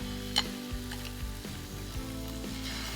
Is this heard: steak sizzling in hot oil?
yes